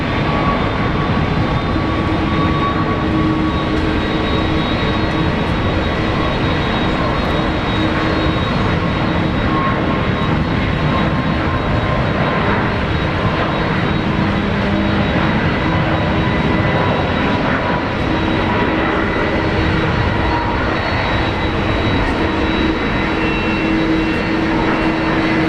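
Airliner engines at Brisbane Airport on a busy morning, with a Qantas A330 pushing back for Sydney: a steady, loud, continuous broadband roar with a faint tonal whine running throughout, no voices.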